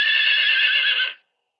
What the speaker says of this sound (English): It's a horse, you're right. A horse.